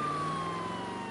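Continuous emergency siren, apparently an ambulance's, holding a steady tone at a constant loud level throughout, with no voices over it.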